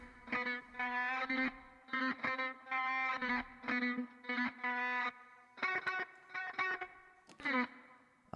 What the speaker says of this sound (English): the effects chain that I'm using Little AlterBoy, pushing the formants down a full octave, the pitch down 1 semitone. Then we're going into a guitar amp.